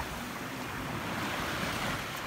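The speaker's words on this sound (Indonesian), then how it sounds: "The sea wave." Sea waves wash onto the shore in a steady broadband roar with wind buffeting the microphone, a continuous close wash of surf with no voices.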